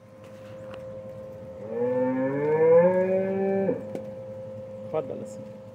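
A cow at a cattle auction lot moos once, a long, drawn-out, rising and falling call lasting about two seconds, fairly close, with someone talking around it and some background noise.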